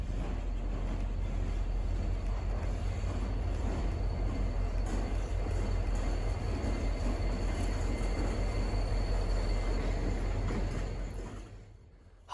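An MBTA train rolls along the Grand Junction line in Boston, a loud steady low rumble heard nearby that holds for about ten seconds, then fades quickly at the end.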